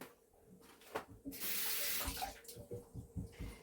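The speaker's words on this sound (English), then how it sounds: "So I just need to give that a proper good wash." Tap water runs over a telegraph cucumber as it is washed under the faucet, gushing and splashing close by and steadying into a stream with irregular splashes as the cucumber is handled.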